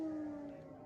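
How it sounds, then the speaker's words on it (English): A steady, wavering siren tone holds at a fairly even pitch, sounding distant and hollow, fading slightly toward the end with no voices. "air raid sirens."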